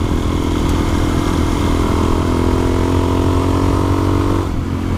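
An adventure motorcycle cruising down a dirt trail in Pennsylvania in fifth gear at about 45 gives a steady, loud engine drone that holds even throughout and eases slightly at the very end.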